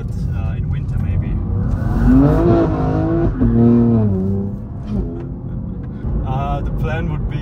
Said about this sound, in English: my valve's open right there, so you have another sneak peek of what the car sounds like